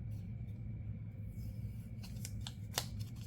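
Scissors snipping paper for a planner spread, several quick close cuts near the end over a faint low room rumble.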